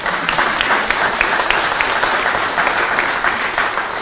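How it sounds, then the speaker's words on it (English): Steady applause from a crowd honoring teachers at a district Teacher of the Year reception, dense clapping sustained throughout at an even level, no voices on top. "Applause for them."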